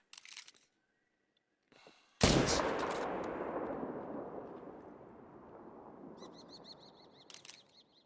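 In theHunter: Call of the Wild, a single loud rifle shot is fired at a red deer and rolls off in a long echoing tail across open terrain, with faint game sounds before and after.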